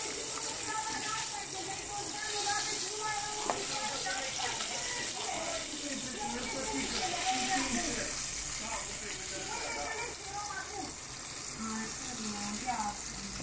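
Carp fry in a pan with a continuous sizzling, watery crackle, while a person talks over the cooking throughout.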